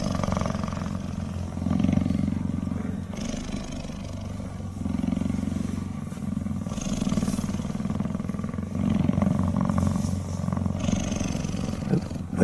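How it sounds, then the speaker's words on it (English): Cheetahs purr close by in a low, steady rumble that rises and falls with their breathing, louder in repeated swells across the whole stretch. "They even purred together."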